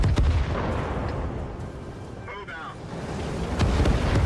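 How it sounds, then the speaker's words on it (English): A massive artillery strike in World of Tanks rumbles as continuous low booming and crackling bursts, loudest at the start and end, with a voice talking over the barrage. "There is a massive artillery strike going on now."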